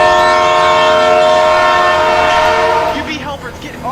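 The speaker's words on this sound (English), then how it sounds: "You got a train coming your way!" A runaway freight train on Cajon Pass roars past at close range, its horn blaring in a long, steady multi-tone chord that holds for several seconds before breaking into rumbling, clattering rail noise.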